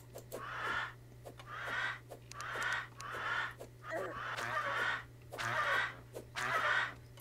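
Creatures in the video game Terraria give a series of about seven honking, goose-like calls in a steady rhythm, each a rasping burst spaced roughly a second apart, loud against a low steady hum.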